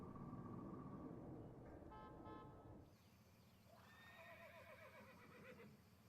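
A horse neighs in a short, quavering whinny, followed after a pause by a second longer whinny, both fairly faint over a low background rumble.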